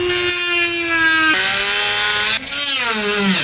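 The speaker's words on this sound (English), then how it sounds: "I'm going to take Garrett's Dremel and just trim it back just slightly" A Dremel rotary tool trimming a piece inside a van makes a loud, high-pitched whine that holds steady and then drops in pitch as it bites into the material, close up and with no talking.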